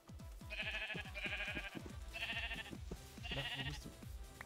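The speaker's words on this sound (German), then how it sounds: "Oh, Schafe." Several blocky sheep bleats from Minecraft come in repeated bursts over a steady game backdrop with clicking footsteps, alone and fairly close.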